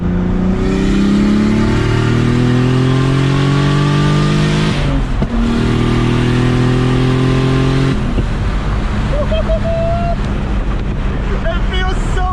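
A BMW E30 with a forged turbocharged M50 engine is pushed to full throttle, its engine note climbing loud and close as it revs up through the gears, with a brief dip between pulls.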